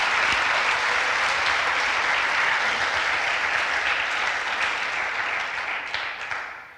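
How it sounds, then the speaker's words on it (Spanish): Church congregation applauding, a dense sustained wash of clapping from many hands that holds steady and then tapers off at the end. "¿Usted cree que Dios merece un aplauso?"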